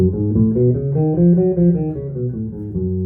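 A bass steps through a melodic minor scale, notes rising then falling evenly, each note held smoothly with no other sounds.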